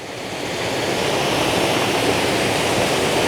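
Waterfall at Petit Jean State Park in Arkansas, a steady, loud broadband rush of falling water that swells slightly in the first half second and then holds, with no voices.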